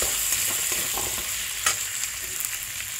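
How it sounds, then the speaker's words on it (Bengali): A tempering of ginger, dried red chilli, whole cumin and bay leaf fries hard in hot oil for moong dal, a dense, loud crackling sizzle with small stirring scrapes, no voices. "আমার আদা, শুকনো লঙ্কা, গোটা জিরে এবং তেজপাতা ভাজা ভাজা হয়ে গেছে ফোড়নটা"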